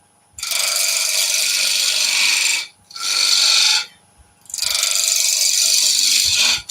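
Timber being cleared from a wooden cabriole leg on a lathe, three sustained bursts of bright, harsh scraping from the cutting tool, loud and close with short gaps between them.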